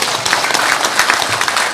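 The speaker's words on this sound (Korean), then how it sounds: "우리 이세종 위원장님께도 박수 한번 보내주세요." Loud, dense applause from an audience at a Korean book launch event, a brief continuous burst of many hands clapping together.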